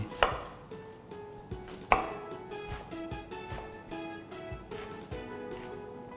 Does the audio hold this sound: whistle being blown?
no